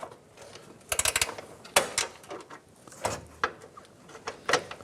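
Gear wrench ratcheting as it loosens and backs out a bolt on a 1997-2006 Jeep Wrangler during harmonic balancer work, heard as bursts of quick metallic clicking with short pauses, close and fairly loud.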